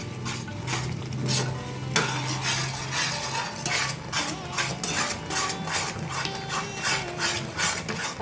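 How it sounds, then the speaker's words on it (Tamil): Fried bread being stirred into a mixture in a pan, with rhythmic scraping strokes of a utensil repeating steadily over a soft frying sizzle, close and continuous, no voices. "இது எல்லாத்தையுமே ஈவனாக நல்லா கிளறி விட்டுக்கணும்."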